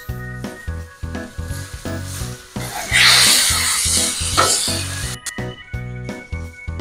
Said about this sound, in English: So we'll go ahead and flip these over and sear the other side.